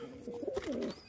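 A sick pigeon gives a short, soft cooing call close by, a single brief burst with no other sounds.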